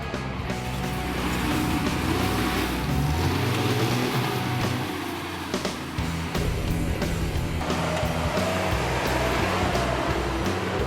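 Nissan Patrol 4x4 without a locking differential working an off-road twister course, engine droning and labouring with uneven surges and rattles, steady and fairly close throughout.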